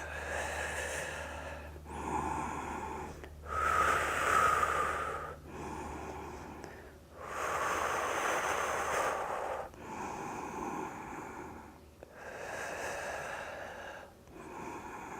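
Slow, deep breaths in and out during a yoga class, each long inhale and exhale separated by brief pauses, close and audible with a soft nasal, slightly wheezy quality.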